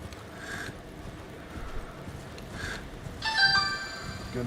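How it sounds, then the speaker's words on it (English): A phone ringtone for an incoming call chimes in near the end as a bright, tonal melody over quieter background noise, following a few soft earlier sounds. "Getting a phone call."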